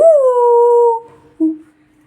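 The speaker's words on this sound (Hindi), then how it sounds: "भौंक रहे हैं" A single dog lets out a loud, sustained howl that slides down and fades, followed by a brief softer whimpering yelp, with no talking.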